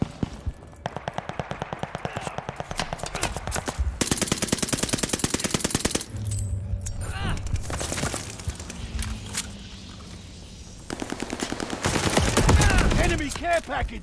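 Rapid automatic gunfire from a weapon in the Call of Duty Vanguard multiplayer shooter, several fast bursts of regular shots across the clip, loud and close, with brief gaps and game noise between them.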